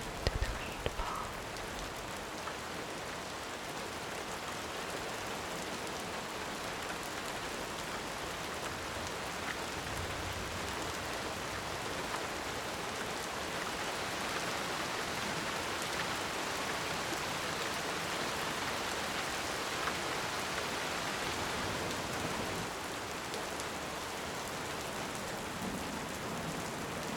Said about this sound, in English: It's so soothing to sit under some shelter during these times and just listen to the rain fall.